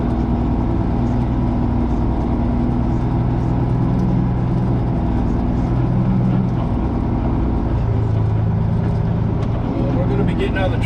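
Truck driving through snow in blizzard conditions, a continuous low engine rumble and rolling drone heard from inside the cab, steady and fairly loud throughout.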